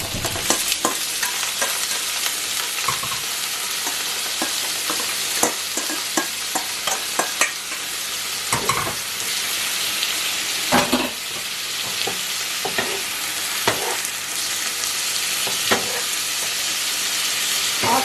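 Vegetables added to softened onions stirred in a frying pan for Jamaican brown stew chicken, a steady close sizzle with repeated sharp scraping and clattering stirs throughout.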